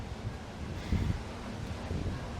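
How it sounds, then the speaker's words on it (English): Steady wind rumbles and buffets the microphone outdoors on the deck of the cruise ship Norwegian Gem, a continuous low roar with slight gusts and no talk. "back outside into the wind"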